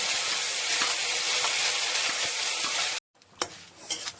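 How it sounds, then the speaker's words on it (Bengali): Ginger and cumin paste frying in hot oil for dalma gives a loud, steady sizzle for about three seconds that cuts off abruptly, then quieter stirring and scraping sounds follow. "আদা আর জিরা বাটা সেটা দিয়ে অল্প একটু ভাজে নিচ্ছে"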